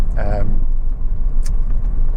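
Honda Civic 1.8 i-VTEC engine idling warm at full operating temperature, a steady low rumble heard up close for about two seconds, with a brief faint voice in the background.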